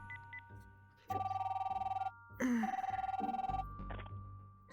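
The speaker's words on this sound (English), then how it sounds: "Can I use that phone to make a call, please?" A telephone rings in The Darkside Detective video game, two long electronic bursts of a steady ringing tone separated by a short gap, loud and close, with faint background music.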